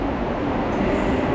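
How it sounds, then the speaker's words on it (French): A subway train at McGill metro station in Montreal gives off a loud, steady rumble that fills the platform, with no clear speech over it. "Aujourd'hui, on est au métro"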